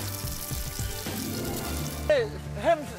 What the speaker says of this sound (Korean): 파 기름 내는 거야?